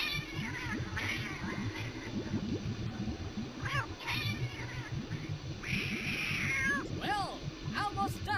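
Cartoonish cat meows and yowls from the video game Bad Rats, several rising and falling cries over busy game noise and music, with someone talking throughout.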